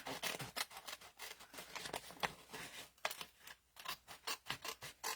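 Scissors snip repeatedly through paper while a file folder folio is being trimmed and matted, a quick, close, steady series of crisp cuts with brief pauses between strokes.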